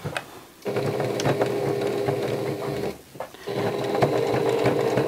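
Sewing machine quilting a meander stitch around hand embroidery, a loud steady mechanical whir with rapid needle clatter, stopping briefly twice before running on.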